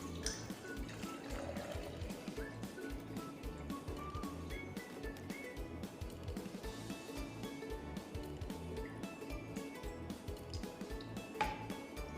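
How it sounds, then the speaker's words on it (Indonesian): Water splashes and trickles steadily as it fills an overflow tube during an Archimedes density experiment. The sound is close and moderately loud with continuous dripping texture, and no one talks. "kita akan mengisi tabung pancuran dengan air."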